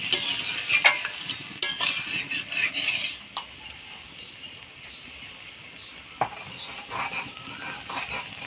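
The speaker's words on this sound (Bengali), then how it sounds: "লবণ দিয়ে কচুরলতিটা ভালো করে নাড়াচাড়া করে নিলাম" Kochur loti (taro stolons) is salted, stirred and fried in a pan, giving a loud hiss and sizzle with scraping spoon strokes for the first few seconds before the sizzle settles into a softer, steadier fry.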